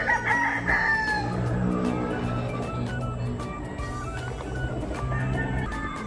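A rooster crows loudly and close by in a long drawn-out call, followed by clucking and other farmyard fowl sounds, with no talking.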